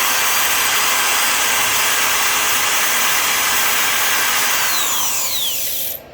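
A 280-watt electric drill powered from a lithium phosphate battery runs steadily with a loud, even whine and hiss, then winds down and stops near the end.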